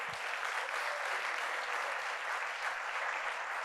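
Steady, full applause from a large audience at a Cincinnati Public Schools back-to-school address, even and sustained throughout with no talk over it.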